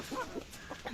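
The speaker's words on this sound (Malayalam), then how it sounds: "നമ്മുടെ റിദൂസ് വാഴയുടെ ഇല കൊടുക്കാണ് കേട്ടോ നമ്മുടെ കോഴികൾക്ക്" A few soft, short chicken clucks sound nearby within a brief moment, quiet and low against a faint background, while the chickens are fed leftover rice.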